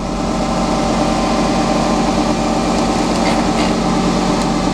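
A grinding wheel sharpens jointer planer knives under coolant, giving a loud, steady, unbroken grinding roar that holds at the same level throughout.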